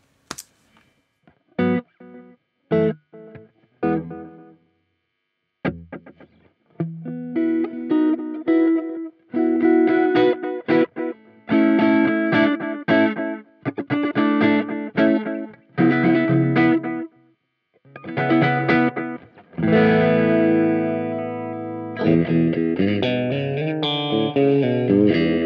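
An electric guitar runs through a Line 6 DL4 MkII delay pedal on its multi-head setting. Short plucked notes and chords at first give way to longer phrases with repeating echo tails, the sound growing fuller and more sustained toward the end, with no talking.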